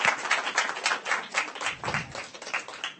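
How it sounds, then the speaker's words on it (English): Scattered applause from an audience at a software development talk, a short run of overlapping claps that swells and fades without a steady rhythm, moderately near and fairly quiet, with no voices over it. "Let's give her a round of applause."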